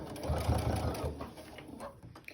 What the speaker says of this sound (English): I'm going to put this turned tape right into the machine, and I'm just going to stitch it down